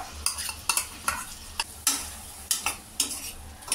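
Soya chunks (meal maker) fry and get stirred in a pan for biryani, a steady sizzle broken by repeated sharp spatula scrapes and clinks against the metal, close and clear.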